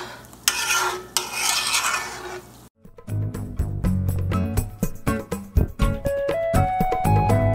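Evaporated milk is stirred into Dominican spaghetti sauce in a pot: a brief hiss, then a short silence, then a run of close metallic spoon scrapes and clinks against the pot.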